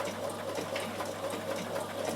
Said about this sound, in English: on my jeans, I can now use my triple zigzag.